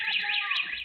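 A street-monitoring home security alarm in Santo André sounds a loud, steady, warbling electronic tone, heard alone for under a second.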